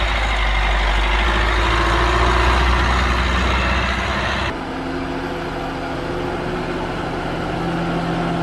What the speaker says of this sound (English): The Panda's engine sounds like a little tank.